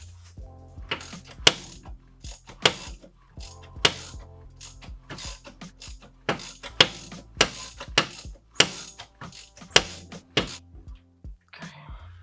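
A hand ratchet clicks in rapid rhythmic strokes, close and crisp, as a Honda B18A1 engine is turned over by hand after a timing belt job, with brief pauses between pulls.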